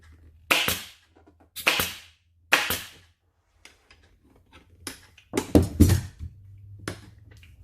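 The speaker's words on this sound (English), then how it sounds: "you can reach deep point with this long nose air gun" A long-nose pneumatic air staple gun drives staples into motorcycle seat upholstery, firing three sharp, loud pops in steady succession, then after a pause a quieter snap and a cluster of clattering shots, heard close with no talking.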